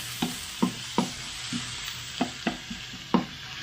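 Tomato, onion and garlic sautéing in a pan, a steady sizzle broken by repeated sharp spatula scrapes and taps in an irregular rhythm, close and unaccompanied by speech.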